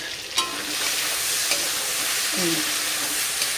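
Fish being stirred in hot oil in a pan, a steady sizzle throughout with a few soft scraping clicks of the spatula, close and moderately loud.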